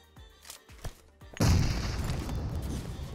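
A grenade goes off in a shooter game, a loud blast with a lingering rumbling tail after a few sharp thumping shots.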